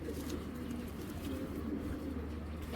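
Low, soft cooing of a racing pigeon murmurs steadily in a quiet space, a continuous throaty rumble with no voices present.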